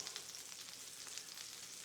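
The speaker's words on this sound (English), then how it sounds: "I can hear them sizzling pretty good" Steady, crackling sizzle of beef, pork and lamb burgers frying in a pan, continuous and fairly quiet, with no talking.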